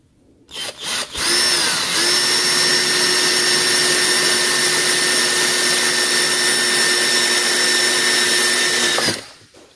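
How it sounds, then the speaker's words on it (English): A few clicks, then a power drill whirs loudly and steadily at close range for several seconds before stopping abruptly. "drill a little hole here."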